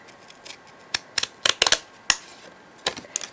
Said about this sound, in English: Then you're going to take some pinking shears.